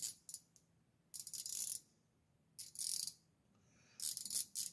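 A flex head ratchet wrench clicks in short bursts of rapid ratcheting, four separate runs of close, crisp metallic clicks with quiet gaps between them.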